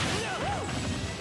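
A forceful smash impact with a swooshing sweep lands in a Super Smash Bros match as Cloud is hit by an up smash. It is short, punchy and close, over game background noise.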